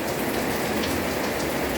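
Steady rain falls, a loud, even hiss of drops hitting a surface that carries on unbroken throughout with no voices.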